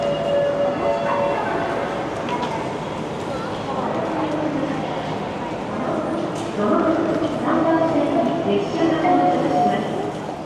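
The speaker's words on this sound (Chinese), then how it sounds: "1点半去小樽的特快车" Steady rumble of a limited express train riding the rails from Sapporo to Otaru in Hokkaido, Japan, with a continuous low drone and faint rhythmic clatter; no clear speech.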